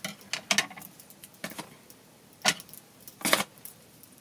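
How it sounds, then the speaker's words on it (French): Double-sided tape being snipped into small pieces with scissors for an embroidery hoop craft: a few sharp, separate cuts and crinkles, close and fairly quiet, with no talking. "On va couper encore 2 petits morceaux de double face"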